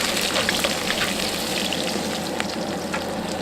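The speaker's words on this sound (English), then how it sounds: "Now I'm going to put garlic and ginger," Garlic and ginger fry in a hot wok with a steady, dense sizzle and scattered crackling pops, close-up and constant with no voices.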